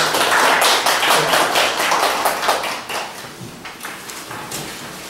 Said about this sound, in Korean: 선생님께 박수를 드리고요